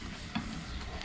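Rice fries in a pan under one short stirring scrape, with a continuous close sizzle beneath and no speech.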